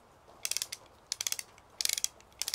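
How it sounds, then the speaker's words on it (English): A ratchet mechanism in a kinetic sculpture clicks in four quick bursts of rapid, crisp pawl ticks, each burst separated by a short pause, heard close and alone. "if you wanted to make one that would work laying down, you could use a ratchet system."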